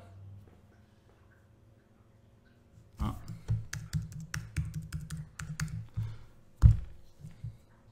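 Fingers typing a password on a computer keyboard, a quick run of close clattering key taps that starts after a quiet pause and ends with one louder keystroke.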